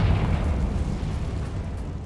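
A Confringo spell explodes in Hogwarts Legacy with a loud, heavy boom that rolls into a rumbling, crackling blast and slowly fades.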